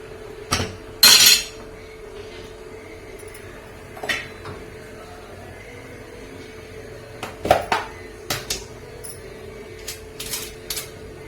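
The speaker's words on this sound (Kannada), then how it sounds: "ಈಗ ಉಪ್ಪು ಹಾಕೋಣ ರುಚಿಗೆ ಎಷ್ಟು ಬೇಕಷ್ಟು ಎಲ್ಲ ಮಿಕ್ಸ್ ಮಾಡೋಣ" Greens being stirred with salt in a metal cooking pot for a Kannada-style sabbakshi soppu hasi uduka dish, with scattered sharp clanks and scrapes of a utensil against the pot amid quiet pauses.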